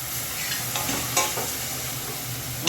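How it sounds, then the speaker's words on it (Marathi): Onion sautéing in a pan with ginger-garlic paste and green paste for prawn pulao, a steady close sizzle with occasional scraping stirs and a brief sharper crackle partway through. "आले लसणाचा कच्चेपणा जाईपर्यंत थोडा कांदा परतून घ्या."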